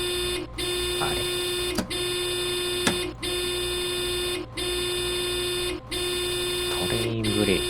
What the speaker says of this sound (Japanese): 多分なんか警報が鳴ってるんですね。